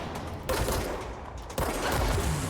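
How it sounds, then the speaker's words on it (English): Gunfire in the video game Control: a sharp sniper shot bursts in loudly, followed by a second heavy report a second later over a steady game rumble, with no voices. "where did that shot come from?"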